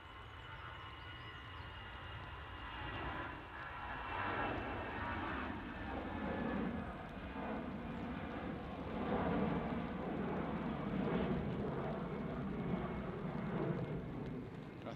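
Brussels Airlines jet departing from Manchester, a steady broadband engine roar that holds loud and continuous throughout, swelling slightly toward the end.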